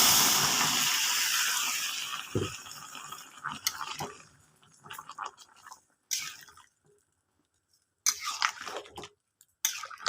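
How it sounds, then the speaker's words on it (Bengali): Water poured into a hot frying pan of fried dried koi fish and taro bursts into a loud sizzling hiss that fades over a couple of seconds into scattered pops and crackles. "আমি জল দিয়ে দিচ্ছি"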